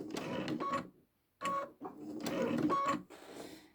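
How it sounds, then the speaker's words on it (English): Sewing machine stitching in short bursts, a close mechanical whirring that starts and stops several times with a brief silent gap. "Just sewing away like this"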